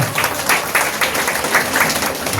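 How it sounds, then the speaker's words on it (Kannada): An audience claps loudly and steadily at a women's association anniversary celebration, a dense, continuous ovation of many hands close by with little talk. "ಇವ್ರೊಂದು ಜೋರ ಚಪ್ಪಾಳೆ"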